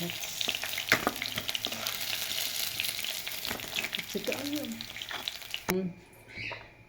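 Oil sizzles and spits steadily in a pan while tempering and frying for chicken noodles, with scattered stirring clinks and scrapes; near the end a brief voice speaks and the sizzling cuts away.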